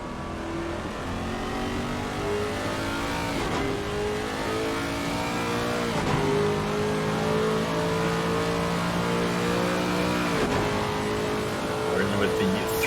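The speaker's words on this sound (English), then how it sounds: "Throaty Lexus" A throaty Lexus GT3 race car engine from a racing game roars continuously, its pitch climbing through gears with repeated shift drops. Commentary talk runs over the engine.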